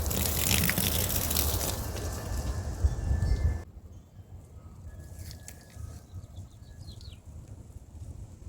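Water gushes loudly from a hose onto plants outdoors for a few seconds, then stops abruptly, leaving quiet outdoor ambience with faint bird calls.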